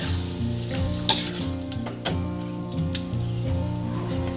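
Enoki mushrooms frying in oil over medium heat for a Thai chili paste, a dense steady sizzle with a few sharp taps of a utensil against the pan, close and without talk.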